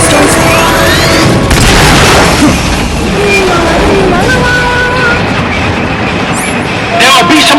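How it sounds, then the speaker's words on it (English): Rocket boosters firing in Metal Gear Solid Peace Walker, a loud, sustained roaring blast with heavy rumble, punctuated by booming impacts and metallic clanks, with a voice speaking amid the din. "Firing boosters."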